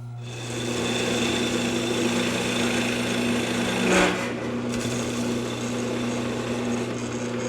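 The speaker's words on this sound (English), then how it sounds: "Jeff, you're using a different honing wheel for the gouge. Yeah, this one's specially contoured to fit the inside flute of your gouges." A woodturning gouge held against a spinning contoured honing wheel shaped to fit its inside flute, giving a steady close motor hum with a continuous light rubbing rasp throughout.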